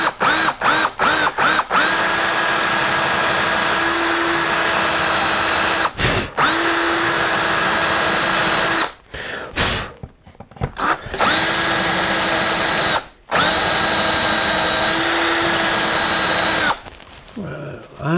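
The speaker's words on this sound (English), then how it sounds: "I'm going to countersink that, or actually counterbore it. I've got a little spade bit." A power drill runs a small spade bit into wood to cut a counterbore, whirring steadily with several brief stops and restarts, close and loud.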